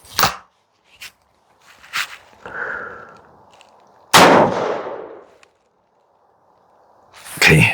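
A Charles Daly 101 folding single-shot shotgun fitted with a caliber adapter fires 10mm ball ammunition: one sharp, loud report with a short decaying tail, among a few quieter clicks and handling noises.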